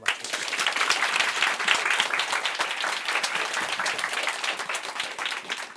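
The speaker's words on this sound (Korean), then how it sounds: "박수로 회장님을 맞추십시오." Sustained applause from a lecture-hall audience at a Megastudy cram school in Suwon, greeting the company chairman: dense, steady clapping from many hands close by, alone and with no voices.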